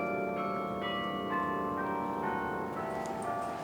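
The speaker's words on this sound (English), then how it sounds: "hustled to the iconic sounds of the church's 57 Carillon bells" Carillon bells ring from a roughly 171-foot church singing tower with 57 bells, several overlapping tones sounding in a descending sequence and sustaining together at moderate loudness.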